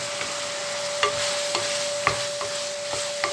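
Fresh green peas sauté in a hot pan under a steady hiss, with a spatula scraping and tapping the pan in a regular rhythm of about two strokes a second, close and clear.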